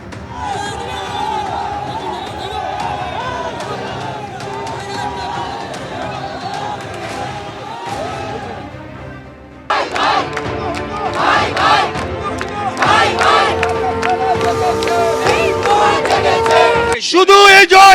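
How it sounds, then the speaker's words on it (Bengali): Sanatani supporters chant slogans in unison in the Alipore court premises after bail. A loud, rhythmic crowd chant at first, then a surge of louder collective shouting and cheering, with voices dense throughout. "আলিপুর আদালতে জামিনের পরই আদালত চত্বরে স্লোগান তোলেন সনাতনীরা।"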